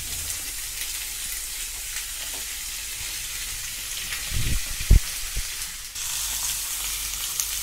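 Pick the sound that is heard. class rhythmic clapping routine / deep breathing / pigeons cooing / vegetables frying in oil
vegetables frying in oil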